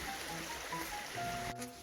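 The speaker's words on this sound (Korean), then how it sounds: "계곡의 물소리도 시원하게 흐릅니다" A mountain valley stream flowing, a steady broadband rush of water, close and even, with faint birdlike chirps and a brief knock near the end.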